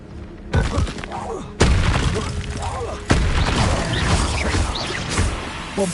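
The Bombarda spell in Hogwarts Legacy goes off in heavy blasts: three loud booming crashes with a shattering, rumbling tail, each cutting in sharply over faint background ambience.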